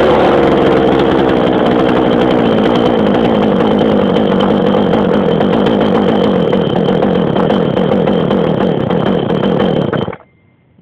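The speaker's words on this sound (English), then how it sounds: "pull it all the way up and pull until it fires" A Homelite XL chainsaw engine runs steadily close by, loud with a rough, buzzing rasp for about ten seconds before it abruptly cuts out.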